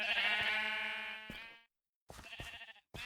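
A Minecraft sheep gives a long nasal bleat, then two shorter bleats after a brief silence, all clear and close with no voices over them.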